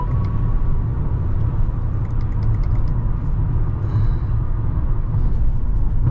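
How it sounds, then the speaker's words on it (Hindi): Steady low road rumble inside a Mercedes-Benz GLA200 cruising on a highway, a continuous broadband drone with a faint thin whistle of wind riding over it, no voices. "बहुत हल्की सी वो विसल है और बहुत ही हल्का सा रोड नॉइज़ आ रहा है"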